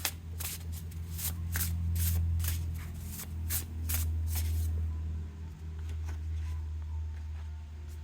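Playing cards are shuffled and handled up close, a quick series of crisp riffling snaps and flicks over a low steady hum, then the handling stops and only the quiet hum remains.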